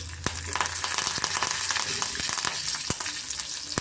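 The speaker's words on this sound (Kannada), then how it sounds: "ಈಗ ಕಾದಿದೆ ಜೀರಿಗೆ ಮತ್ತು ಸಾಸಿವೆ ಸೇರಿಸ್ಕೊತ ಇದ್ದೀನಿ" Cumin and mustard seeds sizzle and crackle in hot oil for a dal of moong lentils and spinach, a steady close frying hiss broken by sharp popping seeds, with no talking.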